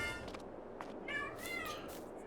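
Cats meowing around a French wine farm, several drawn-out harmonic meows over a steady background hiss, the clearest cries in the second half, moderately close and with no talking.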